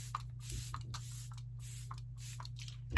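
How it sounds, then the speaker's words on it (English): A makeup setting spray bottle fires several quick misting sprays, about five short hissing bursts spaced evenly, close up over a low steady hum. "setting spray."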